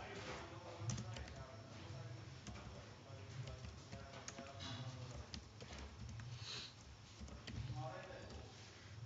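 Typing on a computer keyboard while a table is built in a word processor, with soft, steady clatter of keys running under continuous talk throughout.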